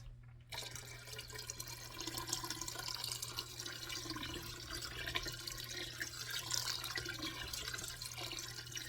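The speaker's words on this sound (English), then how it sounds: "go ahead and add in water" Water pours steadily into a pot of chicken broth for chicken and dumplings, a continuous splashing and trickling that starts abruptly and runs on, fairly faint, with no talking.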